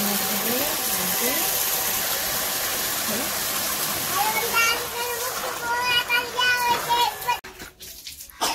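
Running water splashes and gurgles as a child washes their face and rinses their mouth. It is continuous and close, with an adult voice talking over it before the flow stops abruptly near the end.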